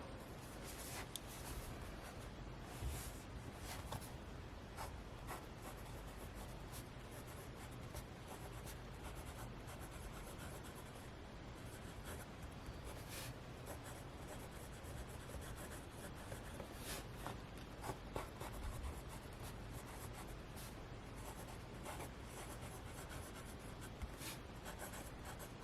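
A Sailor Shikiori fountain pen nib scratches across paper in a steady run of soft, close strokes with small taps and pauses between letters.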